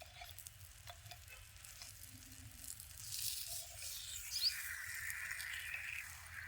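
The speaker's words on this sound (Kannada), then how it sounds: "ಈಗ ನೋಡ್ರಿ ಇವ ನಾನು ಒಂದು ಸೈಡ್ ಫ್ರೈ ಅವ್ರಿಗೆ ತಿರು ಹಾಕೊಳತ್ತೀನಿ ನೋಡ್ರಿ" Food fries in oil and is turned over during outdoor cooking, giving a soft, low-level sizzle with scraping as the pieces are flipped. The sizzle grows louder toward the end, and no one speaks.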